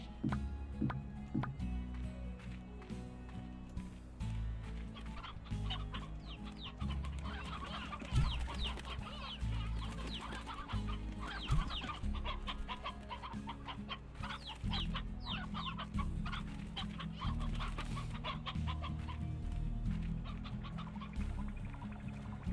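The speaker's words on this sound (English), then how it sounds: "I do have 2 old-ass roosters I need to take care of." Chickens and roosters in the video game Slime Rancher keep up steady, busy clucking throughout, a dense flock chatter at moderate volume with no talk over it.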